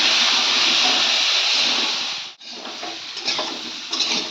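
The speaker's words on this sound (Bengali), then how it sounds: "ফুলকপি আলু আমি একসঙ্গে ভেজে নিই" Cauliflower and potatoes fry together in a pan with a loud, steady sizzling hiss that briefly drops out, then returns a little softer with uneven crackles and spatters.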